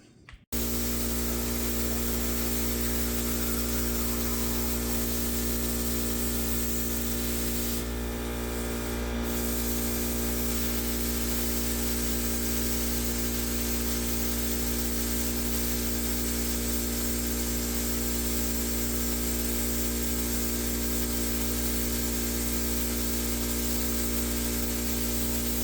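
Plasma cutter burning through sections of an old steel digger bucket, a steady loud hissing roar with a constant droning hum, continuous and close for the whole stretch with no talk.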